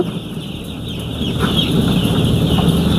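Several caged chickens on a poultry farm cluck and murmur continuously nearby, a busy overlapping chatter with a steady hum in the background.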